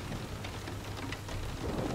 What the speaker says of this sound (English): In the raindrops that fall, and the space between each fading rumble